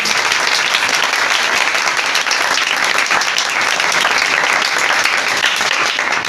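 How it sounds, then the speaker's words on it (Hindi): Loud, continuous applause from a church congregation, a thick wash of many hands clapping at an even level throughout, with no one talking over it. "और जोरदार तालियां खुदा के खातिम की।"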